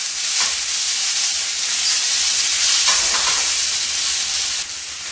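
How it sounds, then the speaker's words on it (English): Steak sizzles steadily in a hot pan for a cognac steak dinner, a dense, even frying hiss that holds for several seconds with slight surges as the meat is shaken, no voices. "Then I'll take my steak, I'll add it right in there"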